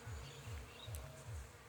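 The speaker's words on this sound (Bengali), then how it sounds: "দেখতে পাচ্ছেন আপনারা এই যে মৌমাছি" Honey bees buzzing near the microphone around a honey source, a soft repeating drone that rises and falls as they fly past, faint and alone.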